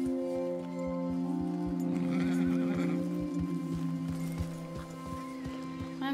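Horse in the video game Red Dead Redemption 2, neighing over steady rhythmic clip-clopping hooves, with a droning game soundscape underneath.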